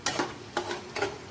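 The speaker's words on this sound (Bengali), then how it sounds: "দিয়ে এবার মশলাটাকে একটু ভেজে নিতে হবে।" Spice paste with tomato paste fries in a pan while being stirred, three short scraping strokes over a soft steady sizzle, close and fairly quiet.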